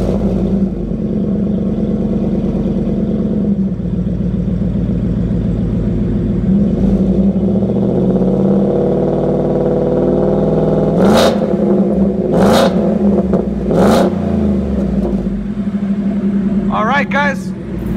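A 2017 Ford F-150 with a 5.0 V8, Flowmaster 10 Series muffler and Shorty exhaust idles with a deep, loud rumble, then revs several times in sharp bursts near the end.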